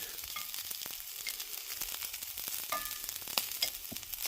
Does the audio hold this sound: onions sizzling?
yes